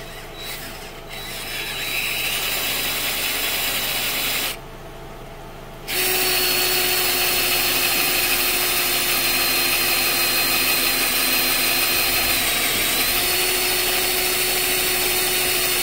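A power drill bores steadily into a spinning wheel stud to free a seized lug nut. Its close, continuous mechanical whine runs almost the whole time, stopping once for about a second before resuming at full strength.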